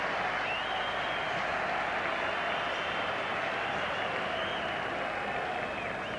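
Cricket crowd at the Wanderers in Johannesburg applauds a boundary four in a 1997 South Africa versus Zimbabwe match, a steady, sustained wash of clapping from a large distant crowd.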